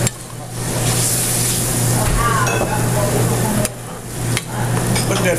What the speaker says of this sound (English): let's add a little wine to it again.